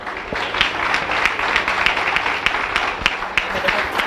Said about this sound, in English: Give the Senator another round of applause for me